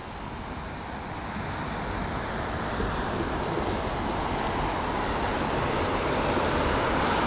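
A LOT Boeing 737 MAX 8 departs London Heathrow, a broad jet roar that swells early and holds loud and steady, heard from outdoors with some wind rumble, no voices.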